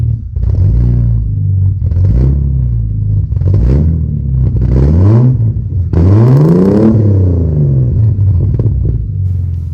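A Mercedes C400 engine fired through a standalone ECU roars close and loud in a series of sharp revs, each rising and falling in pitch, the strongest blip near the middle, over a steady rumbling idle.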